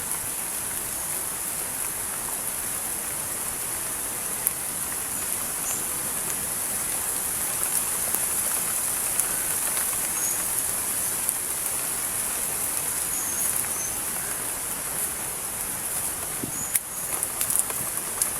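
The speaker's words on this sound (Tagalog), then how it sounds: "Grabe, napakalakas na ng ulan doon sa" Heavy rain pouring in a forest in the distance, a constant broad wash of noise with occasional nearer drops and faint bird calls, no talking.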